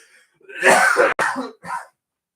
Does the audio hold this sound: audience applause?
no